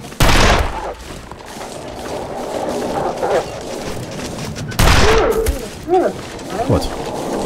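Loud revolver shots in the survival game The Long Dark, an early sharp blast and a second burst near the middle, followed by lighter thuds and clicks, with a voice talking over the game.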